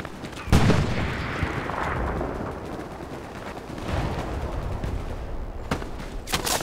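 Gunfire from the WWII shooter game Hell Let Loose: a sharp, loud shot near the start, then a dense, continuous crackle of rifle and machine-gun fire with more close bangs toward the end.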